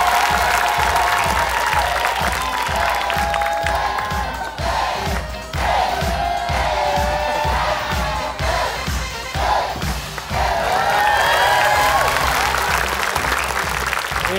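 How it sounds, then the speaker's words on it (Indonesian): A studio audience at an Indonesian game show applauds and cheers loudly and continuously for a team of comedians, with dense clapping and crowd shouts throughout. "Tepuk tangan untuk tim Punchline."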